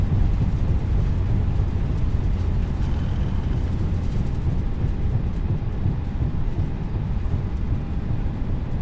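Airbus A320neo reverse thrust after touchdown in Microsoft Flight Simulator 2020: a steady, loud, broadband engine roar with rumbling low end that holds evenly throughout, no voices.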